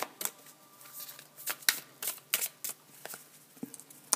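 Tarot cards shuffled by hand in quick, irregular bursts of riffling and slapping, close and fairly loud, with no talking.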